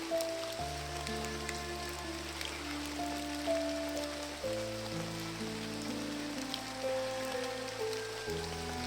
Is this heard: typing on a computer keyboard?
no